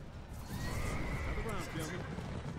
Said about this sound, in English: Many, many horses this guy has.